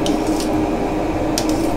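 A long spoon stirs wort for a Belgian IPA that has just reached the boil in a brew pot. The stirring scrapes and clinks softly over a steady bubbling rumble, with two brief metallic clatters standing out.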